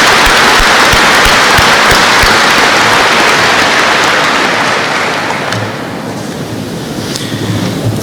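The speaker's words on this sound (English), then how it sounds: "I believe that also deserves a round of applause." A large crowd applauds in a dense, sustained roar of clapping that gradually thins and fades toward the end.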